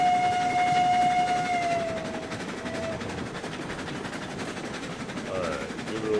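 A train pulls out of the station in the RailRoads Online video game, opening with a sustained whistle tone that fades into a steady rumbling, clattering roll of rail cars.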